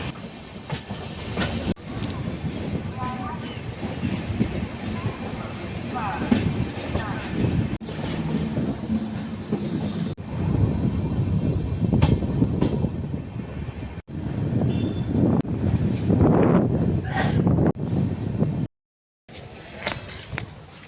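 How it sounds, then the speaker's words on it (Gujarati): A train rumbles along the rails near Porbandar, Gujarat, with steady clattering and occasional sharp clanks, continuous for most of the stretch before a brief cut near the end. "આપણે આ ટ્રેનમાં સફર કર્યો હતો"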